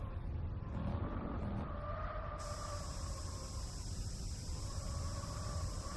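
Racing car engine accelerating in Gran Turismo 4 Spec II mod, a sustained whining engine note with rising tonal harmonics over constant road noise, loud and close, no talking.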